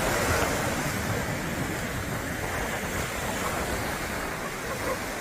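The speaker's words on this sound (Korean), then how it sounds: "파도도 조금 심하고" Rough sea waves breaking on the East Sea coast of Korea, a steady, dense roar of surf with some wind noise, loud and continuous throughout with no talking.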